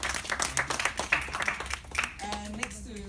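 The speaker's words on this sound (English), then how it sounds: "a round of applause" An audience at the TechStorm launch gives a short burst of clapping that fades quickly as a voice starts speaking.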